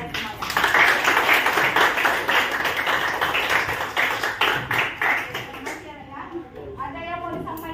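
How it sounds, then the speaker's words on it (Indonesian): A classroom of students claps together for several seconds, a dense spread of hand claps that tapers off as a teacher's voice and children's chatter take over near the end. "tepuk tangan untuk kalian semuanya"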